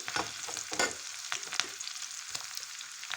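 Tadka tempering for Punjabi-style sarson ka saag sizzles and crackles in a pan with chillies, a steady frying hiss broken by sharp pops and stirring scrapes, close and loud, with no voices.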